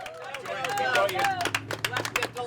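Crowd at a Badwater 135 ultramarathon time station, about the 122-mile mark, cheering a lead runner through: a close, continuous mix of clapping, whoops and excited voices, swelling and then breaking into scattered claps.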